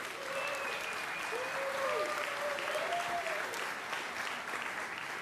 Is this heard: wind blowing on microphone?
no